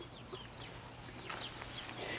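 Backyard chickens cluck in a continuous busy murmur, with scattered short calls over steady background noise and no talk.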